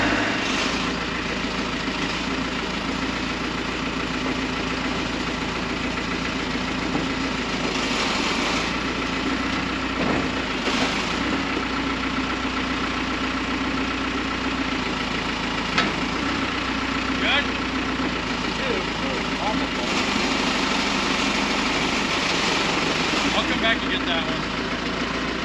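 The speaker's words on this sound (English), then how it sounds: "We're gonna use a forklift to pull it off." A forklift engine idles and runs steadily at close range, a constant mechanical drone with a few louder surges, while people talk over it on a farm where hay and tires are being moved.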